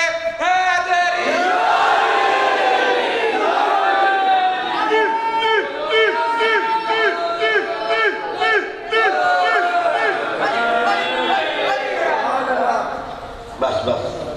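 A large crowd at an Eid Milad-un-Nabi gathering chants rhythmic Haidari religious slogans in loud, repeated unison responses, sustained throughout with harmonic voiced calls rising and falling.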